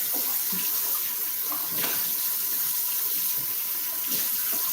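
Kitchen tap runs steadily into a sink, a continuous close hiss of flowing water with small splashes and gurgles throughout.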